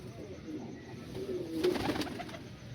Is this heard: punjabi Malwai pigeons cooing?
yes